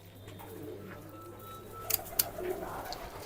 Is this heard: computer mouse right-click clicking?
no